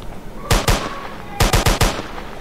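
Two bursts of gunfire in the Roblox game Framed: a quick double shot, then a rapid run of four close, loud cracks, with no talk over them.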